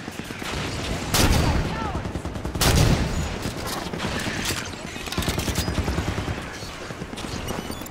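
Automated defense turrets in Halo 5: Guardians fire long rapid bursts of gunfire, loud and close, with heavier blasts among the rattling shots and voices talking underneath.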